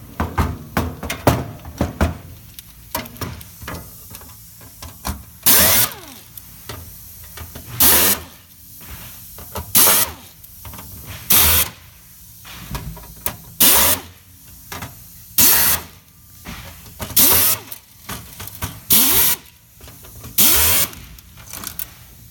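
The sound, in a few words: removing computer motherboard screws with a power tool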